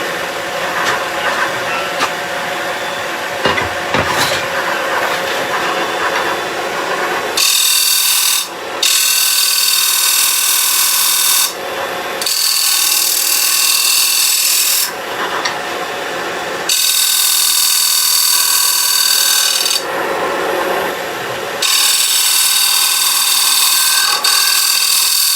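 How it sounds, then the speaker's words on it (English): A wood lathe tool scrapes a small bead into a turned toffee dish, in several loud, close bursts of harsh scraping separated by short pauses while the lathe hums underneath. No one talks. "What I'm going to do now though is just scrape in a little bead here."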